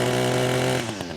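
A weed eater trimmer engine screams at full RPM, loud and close, with a sharp buzzing whine that holds steady and then wavers slightly as it comes off peak.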